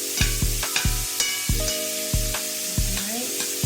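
Shrimp fry in a pan with a steady sizzle, broken by regular rhythmic clicks and taps that sound like stirring, close and fairly loud with no voices.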